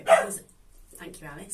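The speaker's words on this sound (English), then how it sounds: "I'm sorry about my dog-a-log suddenly deciding to bark." A pet dog barks abruptly a few times in an indoor sewing room, loud and close at the start, with someone talking over and after it.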